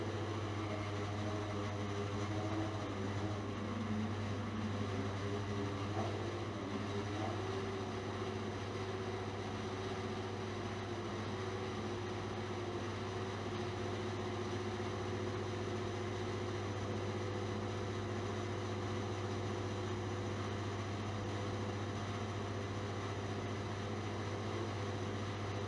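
A steady electric motor drone whose pitch climbs early on as the motor is sped up to 900 RPM, then settles into an even, continuous hum with no talking.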